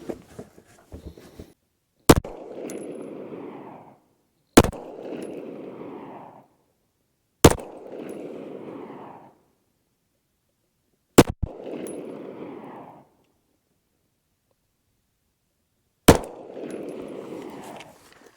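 Five suppressed shots from a Staccato 2011 P pistol at an outdoor range, sharp reports spaced a few seconds apart, each followed by a short rolling echo.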